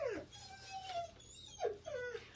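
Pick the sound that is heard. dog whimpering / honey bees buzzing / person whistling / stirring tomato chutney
dog whimpering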